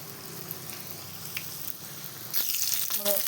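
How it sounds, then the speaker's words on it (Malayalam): Momos frying in hot oil in a pan, a soft steady sizzle with faint crackles that swells louder and busier near the end. "ഇനി നമ്മൾ കുറച്ച് മൊമോസ് പൊരിച്ച് കോരുന്നുണ്ട് അതിൽ എണ്ണ ചൂടായിട്ട് അതിലേക്ക് ഇടാം"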